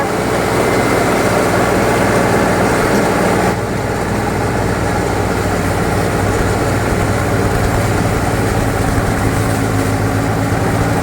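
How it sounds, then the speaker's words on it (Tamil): A Deutz Fahr 80 hp tractor engine runs in creeper gear with a loud, steady low drone that drops slightly partway through and then holds even for the rest of the time. "க்ரீப்பர் கியர் பத்தொம்போது ஆர்பிஎத்தில் வந்து வச்சு ஓட்டுறாங்க"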